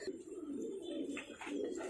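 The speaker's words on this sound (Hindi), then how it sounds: "भाई जो अभी ये कबूतर का पेयर दिखा रहे हैं ये मद्रासी कबूतर का पेयर है।" A pair of Madrasi pigeons cooing close by, soft low repeated coos in a steady rolling rhythm, faint overall with no talk over them.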